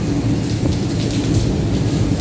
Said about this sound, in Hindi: ये देखें आवाज़ आ रही है ओलों।